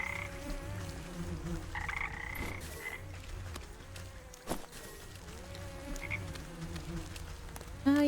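Frogs croak in a swampy area of the video game Wytchwood, with repeated low croaks under buzzing insect drones and mosquito whines, steady and fairly close, without speech.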